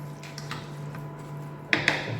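Ash gourd being stirred into a pot of homemade dried fish curry: a soft wet squish over a low background hum, then two sharp spoon knocks against the pot close together.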